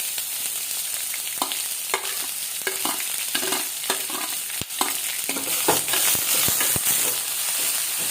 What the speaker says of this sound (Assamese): তাই এতিয়া পিঁয়াজখিনি ফ্ৰাই কৰিব ব্ৰাউন হোৱালৈকে